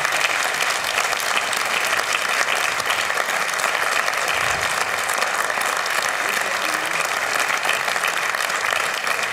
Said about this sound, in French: On peut applaudir très fort Monsieur Audiard.